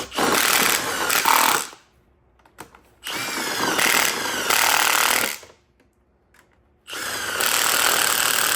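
An impact wrench hammers at the front cover bolts of a Cummins engine in three loud rattling bursts. Each burst lasts a couple of seconds and is split by short silent gaps.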